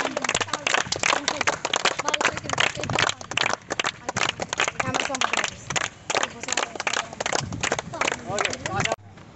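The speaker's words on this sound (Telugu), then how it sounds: "గట్టిగా చప్పట్లు కొట్టు." A group of people clap continuously and rhythmically during a cricket warm-up, with people talking loudly over the fast, dense claps.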